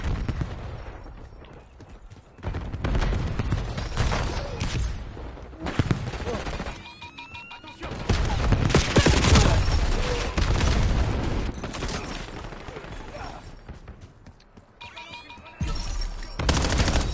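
Dense, loud gunfire in Call of Duty Black Ops 7, with sustained automatic bursts and booming shots that swell and ease over several seconds, layered with game effects.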